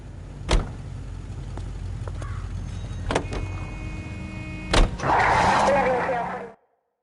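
Car driving in the video game L.A. Noire, a steady engine and road rumble running throughout with a few sharp thumps, rising into a louder rushing burst near the end before cutting to silence.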